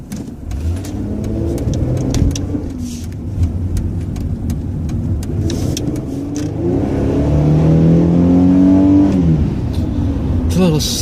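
A car's engine revs as it accelerates and shifts through gears while driving on a road, the pitch climbing and dropping between shifts, loud and close, with a person talking over it.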